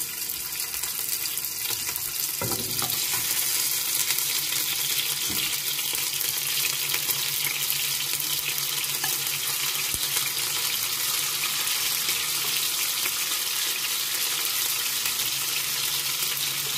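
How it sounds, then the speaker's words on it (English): Beef frying slowly over a low fire, a steady dense sizzle and hiss running continuously and evenly throughout, close and fairly loud, with a couple of faint knocks early on. "gonna cook the beef, put it slowly in a low fire"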